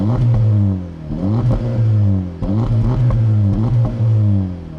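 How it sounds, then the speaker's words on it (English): The 2024 Acura Integra Type S revs repeatedly through its always-open exhaust valves, loud and close, with pitch climbing and falling in waves and faint crackles between revs. "the Integra Type S valves are always open, and that results in louder sound and some crackles and pops."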